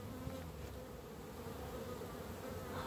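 Honey bees at an apiary at the end of the season, a dense steady buzz of many insects around the hives, continuous and close, with no voices.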